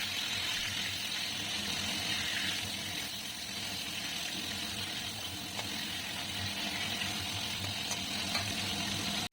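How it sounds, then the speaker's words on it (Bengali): Rohu fish frying in oil makes a steady, even sizzle that runs without a break, moderately loud and with no voices over it. "এদিকে মাছ ভাজা শুরু হয়ে গেছে।"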